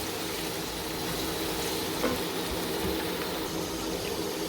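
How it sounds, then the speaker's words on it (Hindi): Onions fry in a pan for chicken haleem, a steady, dense sizzle that stays close and even throughout with no voices. "वो प्याज डालूँगी, उसको हम फ्राई करेंगे अच्छे से"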